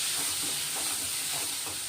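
Bitter gourd sautéing in a hot pan makes a steady, loud, even sizzle and hiss of steam that runs unbroken throughout.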